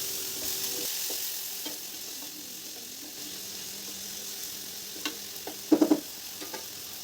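Papaya bhaji frying in a pan after a splash of water, a steady soft sizzle and hiss with occasional clinks and a few sharp utensil taps near the end.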